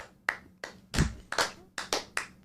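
A few people in a small studio audience clap sparsely for a comedy show guest, giving about seven separate, uneven bursts of claps over a couple of seconds, each sharp and fairly close, with no talking over them.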